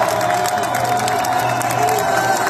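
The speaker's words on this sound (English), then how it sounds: "Firefighters, smoke bombs in hand, are applauded by the crowd." A dense crowd cheers, whoops and claps for firefighters carrying smoke bombs at a protest near the opera, a loud, continuous roar of voices and applause.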